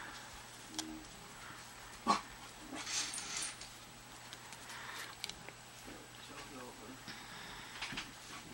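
A neighbor's dogs whimper and give occasional faint barks in the distance, soft and intermittent over a low indoor hum.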